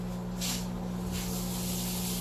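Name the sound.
sausage sizzling in a pan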